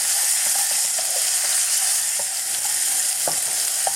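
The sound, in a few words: stirring and frying in a wok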